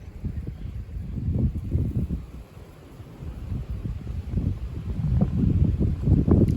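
Gale-force wind roars in low, rumbling gusts against the microphone, swelling and easing over several seconds with no voices.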